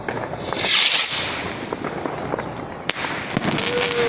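New Year's Eve fireworks crackle and pop continuously at a distance, with a brighter fizzing burst early on and a few sharper single bangs later.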